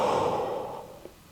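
A single deep breath, a slow broad exhale that fades over about a second during a glute exercise in a golfers' strength workout, close and fairly quiet, with a small tick near the end.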